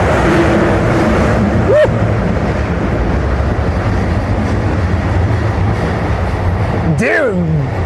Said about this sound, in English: Dude, that train sounded like anime.